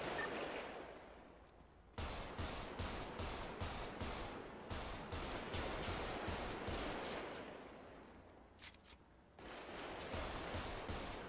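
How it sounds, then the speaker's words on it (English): Rapid bursts of gunfire in a GTA shootout, repeated cracks in quick runs across most of the stretch, loud and close, with short gaps in between. "Yep, shots fired in front."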